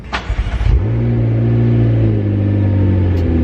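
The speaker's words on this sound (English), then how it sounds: "It's got the signature McLaren sound" A McLaren sports car engine revs sharply in a few quick blips, then settles into a loud, deep, steady rumbling drone close by.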